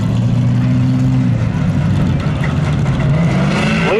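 Cars roar loudly and steadily up close during spectator drag racing at Seekonk Speedway, where a Camaro runs against a Subaru, with the engine pitch shifting as they accelerate.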